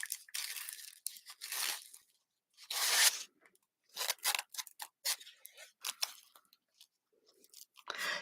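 Scissors snip through ribbon for a bow in several crisp, close cuts. The bursts come at an irregular pace, with short quiet gaps and a few softer rustles between them.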